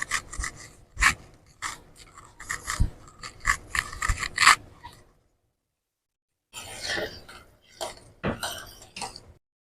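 A spoon scrapes and stirs dry milk powder into gram flour in a bowl, giving repeated short rasping strokes in two bursts separated by a silent pause.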